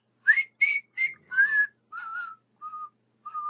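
Someone whistles a short melodic phrase alone, about seven clear notes with brief pauses between them, the final notes softer and sustained.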